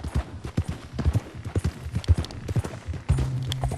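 Rhythmic clip-clop of horse hooves trotting at a steady pace in the video game Red Dead Redemption 2, close and clear, with a low engine-like hum joining near the end.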